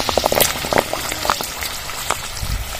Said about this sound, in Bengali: এবার পাঁপড়গুলো ভেজে নেব।